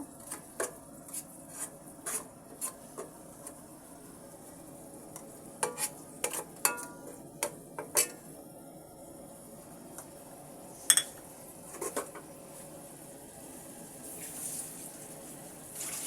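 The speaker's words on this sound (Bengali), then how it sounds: "দিয়ে দিচ্ছি পেঁয়াজ বাটা এবার মশলাটা আমি একটু নেড়ে চেড়ে দেবো" Spices and onion paste get stirred in a cooking pan while making bottle gourd greens with tengra fish, with scattered scraping and clinking strokes of a utensil over faint sizzling, close and intermittent.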